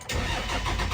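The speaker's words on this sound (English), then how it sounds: "So I'm gonna crank it up again. It should fire right up this time" A 1999 Dodge Ram 2500 with a 24-valve Cummins diesel cranks and catches, the loud, close engine roar bursting in abruptly and holding steady through the short moment.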